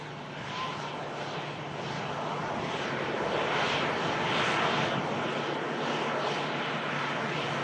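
An airliner departs at Manchester Airport with a broad, rising engine roar that swells and holds at moderate distance, steady and unbroken with no talk.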